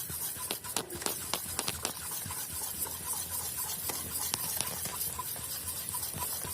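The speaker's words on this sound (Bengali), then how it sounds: "ভালো করে মিশ্রণটাকে ভালো করে যত মেশানো হবে তত ভালো হবে" Batter for cauliflower fritters is stirred by hand, making soft, irregular clicking and scraping taps against the bowl, fairly faint and close, with a low background hum and no talk.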